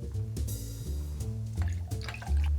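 Peach schnapps glugs and trickles into a cocktail in short bursts of liquid pouring, set against steady music in the background.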